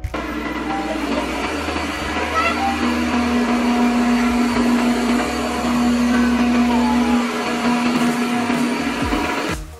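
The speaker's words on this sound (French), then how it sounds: "On a bien entendu le passage de la puissance standard à la puissance boost." A robot vacuum mop runs steadily at close range, its motor whirring with a constant hum, then its pitch and intensity change as it switches from standard to boost suction, alone with no voices.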